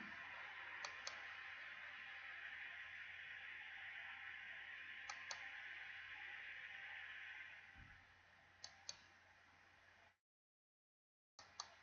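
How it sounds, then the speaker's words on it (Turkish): Faint computer mouse clicks come in small pairs at a few-second interval over a steady hiss during a slide presentation, ending in a short silence and a final click. "Slide geçişlerinde fareye basıyorum."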